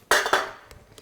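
A set kitchen mixture is tipped out of a dish onto a chopping board, two sharp clattering knocks followed by a few softer taps, close and fairly loud, with no talk.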